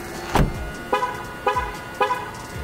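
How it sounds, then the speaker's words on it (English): A 2022 Jeep 4xe plug-in hybrid sounds its horn after the door is shut: one sharp honk followed by three shorter, evenly spaced chirps, clear and close with no talking. "Honks at us."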